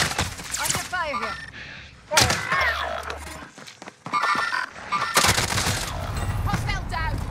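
Gunfire in Call of Duty Modern Warfare, a Resurgence trios match: sharp bursts of automatic shots in several clusters, loud and close, with short gaps and brief game voice lines in between.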